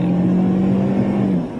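A cheap Dodge's engine revs while driving, a steady droning hum holding one pitch and then easing off near the end, loud and close with no talking.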